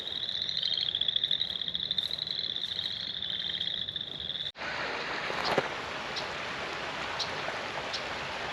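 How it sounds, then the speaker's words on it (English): Frogs and toads croak in a dense spring chorus at Elm Creek Park, a high trilling mass that breaks off midway into an outdoor wash of steady hiss and scattered ticks, with no voices. "in the springtime, you can just hear all the life. All the frogs, toads,"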